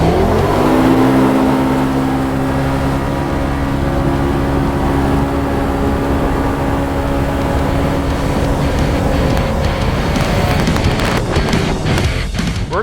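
A loud engine of a Polaris RZR side-by-side UTV roars steadily as it accelerates in a drag race, its pitch climbing and holding before breaking into rough, rattling noise near the end.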